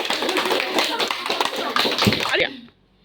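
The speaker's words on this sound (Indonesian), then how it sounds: "Aplaus buat teman kamu yang sudah menjawab." Classroom applause for a student who gave an answer: a dense burst of many hands clapping together, loud and close, running steadily for over two seconds before cutting off abruptly.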